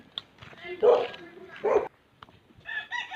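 Chickens, including gamecocks raised for derby fighting, cluck and a rooster crows nearby in short bursts, with a bit of talking mixed in.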